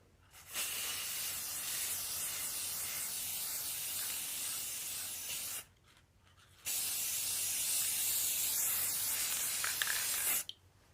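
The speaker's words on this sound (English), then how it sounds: "spray it" Two long bursts from a spray can onto a wooden river table cutting board, a steady close hiss lasting about five seconds each, separated by a short pause.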